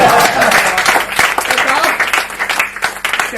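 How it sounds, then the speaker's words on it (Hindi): An audience applauds for poet Radheshyam Bharti at a poetry recital, a loud burst of clapping that starts strong and gradually thins, with voices mixed in. "भाई राधेश्याम भारती, जोरदार तालियां"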